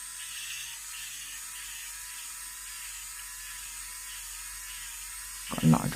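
An electric nail e-file drill whirs with a thin, steady high whine at low volume, then a brief clatter of handling noise cuts in near the end.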